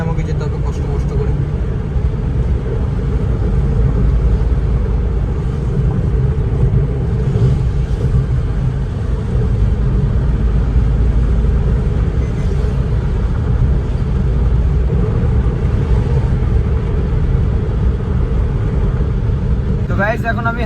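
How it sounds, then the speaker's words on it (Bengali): Car driving along a highway, with a steady broadband road and engine rumble holding constant throughout and no breaks, loud and close as from inside the cabin. "এখন আমি হাইওয়েতে ড্রাইভ করছি"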